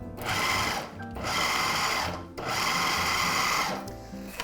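Food processor pulsing garlic, lemon juice and dairy-free pesto ingredients, three loud whirring bursts of about a second each separated by brief pauses, close up.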